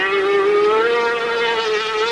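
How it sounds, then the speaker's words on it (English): Grand Prix 500cc Yamaha-engined sidecar racing outfits at Donington in 1986, a continuous high-pitched engine whine holding steady and slightly rising in pitch, loud and sustained with no talk. "outfits all using the 500cc Yamaha engine, just as they do at the Grand Prix"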